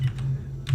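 Computer keyboard typing during a surgery simulation game, short soft keystroke bursts at the start and end over a steady low hum, no talk.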